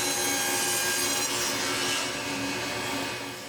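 Close, steady sawing of wood miters on a saw sled, a continuous rasping cut with no voices, fading slightly toward the end.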